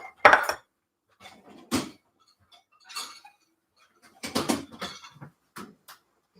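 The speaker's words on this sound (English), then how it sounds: "Get 2 more dishes here." Dishes clatter and clink in short, separate bursts on a kitchen counter during Mardi Gras cupcake preparation, with quiet pauses between the handling sounds.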